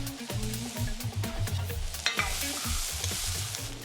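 Vegetables and whole crushed garlic cloves in their skins sizzle and caramelize in a pan for a braised dish, a steady close frying hiss broken by repeated scraping stirs, with no voices.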